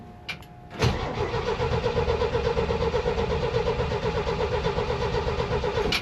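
With the choke pulled, an engine turns over after a short click and catches within a second, then settles into a loud, steady, slightly rough run heard up close, with no talking.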